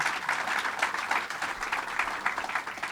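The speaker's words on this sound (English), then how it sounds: "Let's give Toro a big round of applause." Audience applause at a Governor Cuomo announcement hosted by Toro, held on Long Island, a dense steady round of clapping from a sizable crowd that carries on evenly throughout with no talk over it.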